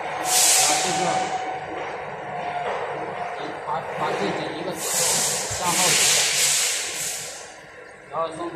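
A centerless grinding machine dressing its guide wheel, giving a loud continuous rasping hiss that swells in bursts, close by, while someone talks over it.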